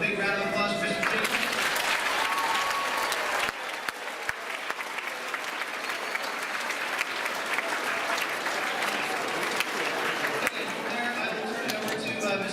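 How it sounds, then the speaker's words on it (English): Audience at a school event clapping loudly and continuously, a dense wash of applause from a large crowd that holds steady for several seconds with faint voices mixed in. "So a big round of applause for Mr."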